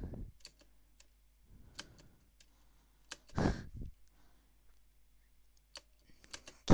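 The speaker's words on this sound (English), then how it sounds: "Keyboard noise." Scattered clicks of computer keyboard typing, irregular and close, with a brief low voice or thump in the middle.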